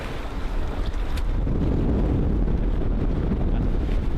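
Strong wind roars and buffets against a sailboat leaving San Juan del Sur for Costa Rica in a rainstorm, with water rushing alongside and heavy microphone wind noise, loud and continuous.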